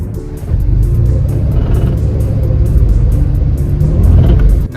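A 2010 Dodge Caravan with a slipping transmission drives and shifts gears. Its engine and road rumble are loud and steady from inside the cabin, with a small change in pitch as the gear shifts.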